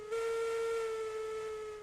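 A steam locomotive whistle in the Railroads Online video game gives one long, steady, loud blast lasting nearly two seconds, heard alone with no voices.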